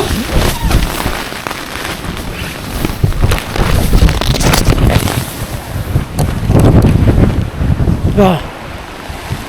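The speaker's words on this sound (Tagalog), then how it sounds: "Puyos yung hangin ah." Strong wind on a mountain summit during a typhoon buffets the microphone in loud, gusty rumbles, with brief voices heard under the roar.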